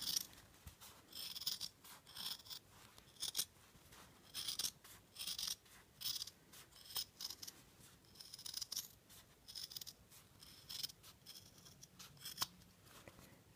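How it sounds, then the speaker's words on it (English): Scissors snip around the edges of an in-the-hoop machine-embroidered zippered purse, a long run of short, crisp close-up cuts in an irregular rhythm, with brief pauses and no talking. "Okay, I'm just cutting around here now."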